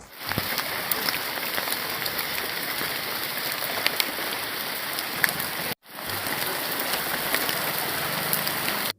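Steady rain pours down nearby, a dense hiss of drops on a hard surface with a brief break partway through.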